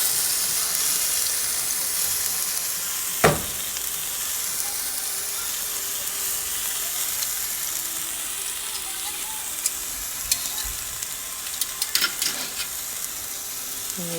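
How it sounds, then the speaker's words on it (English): Beef brisket sears and browns in a hot pan with a steady, close sizzle throughout, broken by a sharp clatter near the start and a few brief knocks and clicks later on. "Here I am, browning or searing each side."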